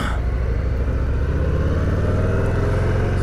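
A blacked-out 2022 Harley-Davidson Heritage 114 motorcycle engine drones in a steady low rumble on a test ride, loud and close with constant wind and road noise.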